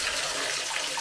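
Cold, fresh mountain water in Azerbaijan flows steadily, a continuous close-up rush and splash with no break and no voices.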